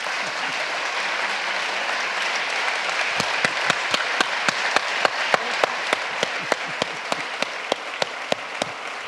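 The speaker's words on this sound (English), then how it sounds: "Final round of applause to the amazing Amy and Elaine" An audience at a wildlife conservation lecture applauds in a dense, even wash, then settles into slower, distinct rhythmic claps that carry on to the end.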